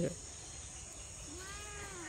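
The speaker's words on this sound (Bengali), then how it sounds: "এই যে দেখেন কালো বিড়ালটার অবস্থা" A black cat gives a single drawn-out meow late in the moment, faint against steady outdoor insect hum near a village pond.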